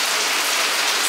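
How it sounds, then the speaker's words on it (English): Steady rain pours down, a dense continuous hiss of drops hitting surfaces close by, with no voices and no breaks. "It's raining, guys."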